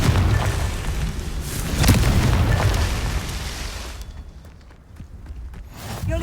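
Confringo spell blast in the video game Hogwarts Legacy, a loud booming explosion with a sharp burst near the middle, then a rumbling decay and a second pop at the end.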